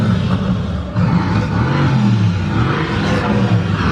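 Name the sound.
Mercedes-AMG GT S engine sound played from a device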